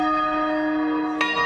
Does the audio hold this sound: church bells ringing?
yes